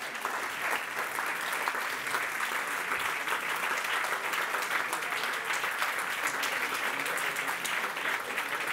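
A large audience applauds an event team called onto the stage, dense steady clapping filling the whole stretch at an even, moderate level with no voices over it.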